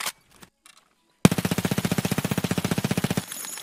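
An MP9 submachine gun in a video game fires one sustained full-auto burst of rapid, evenly spaced, loud shots lasting about two seconds. A few faint clicks come before it.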